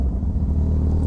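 A Honda CB1000 motorcycle engine idles with a close, steady low rumble, its firing pulses blurring into a continuous throb for about a second.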